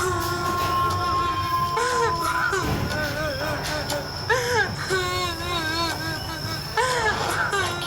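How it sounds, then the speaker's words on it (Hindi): A girl in a horror cartoon cries and sobs at night with wavering, whimpering wails that rise and fall repeatedly over a steady background hum. "रोने की आवाज।"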